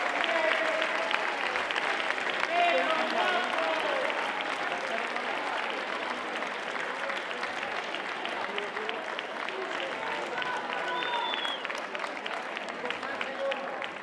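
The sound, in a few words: applause at murga contest award ceremony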